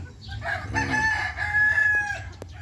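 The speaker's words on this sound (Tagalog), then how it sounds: "Ito mga manok ko mga idol" A rooster crows loudly and long, with hens clucking around it and a busy farmyard murmur underneath.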